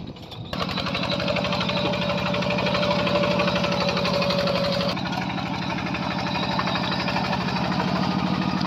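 A Yanmar plowing tractor works hard in a rice field, its engine chugging in a close, steady rhythmic knock after a brief start, with no talk over it.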